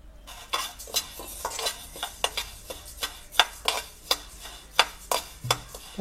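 Rice being dry-roasted in a pan and stirred with a spoon, a series of rhythmic scraping and rattling strokes, close and moderately quiet, with no talk.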